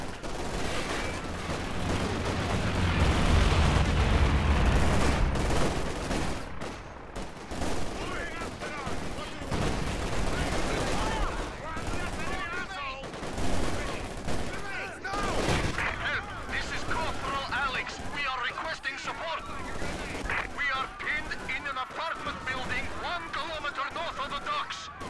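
Howitzer artillery and small-arms gunfire in the Company of Heroes 2 battlefield, dense repeated blasts and rattling bursts filling the whole stretch, with a voice talking over the combat.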